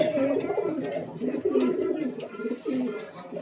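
Pigeon cooing from a flock of bloodline pigeons kept for sale in Kolkata, soft repeated throaty coos that overlap almost continuously, close by and fairly loud, with some background voices.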